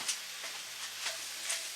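Sausage with diced sage browns in a skillet, a faint steady sizzle with a few soft stirring ticks.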